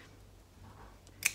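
Scissors snip fabric beside a zipper tab on a cross-body bag, one short sharp cut near the end after quiet rustling.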